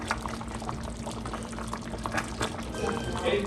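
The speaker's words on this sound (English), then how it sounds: "We got it boiling, so that's good." A pot of chop suey bubbles at a steady boil on the stove, a dense continuous burbling that swells slightly toward the end, with a faint electrical hum underneath.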